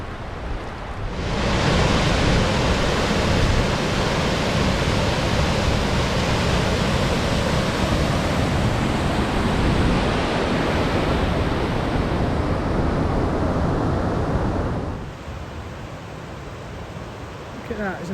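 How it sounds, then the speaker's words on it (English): Cauldron Snout waterfall pours off the reservoir with a loud, steady roar of rushing water that fills the clip up close. Near the end it drops off sharply to a quieter rush. "that waterfall comes off the reservoir and it's Cauldron Snout, that is"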